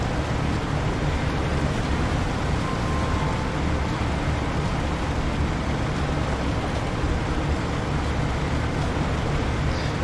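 A struggling truck engine held at high revs in the SnowRunner video game makes a continuous, dense, rumbling drone that stays level throughout, with no talking.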